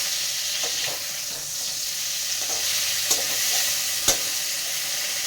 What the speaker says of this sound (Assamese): মৰাপাটখিনি অলপ ভাজি কৰি লওঁ।